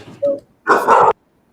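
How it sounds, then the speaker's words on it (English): Dogs barking close by, a short yip followed by a louder, longer bark, then quiet. "damn dogs"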